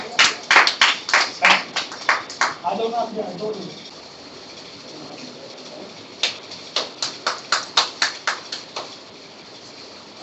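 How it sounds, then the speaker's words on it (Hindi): Rhythmic, evenly spaced claps at a Bhim Brigade Trust gathering honouring Bhagat Singh come in two bursts, with a lull of muffled voices between them. "जोरदार तालियां।"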